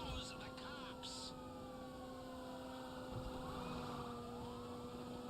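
Police siren in the video game GTA Online, a continuous wailing tone rising and falling under a steady engine hum, faint and somewhat distant, with game audio around it.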